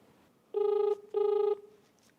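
Two electronic telephone rings, each about a second long with a short pause between, clear and close in a quiet room.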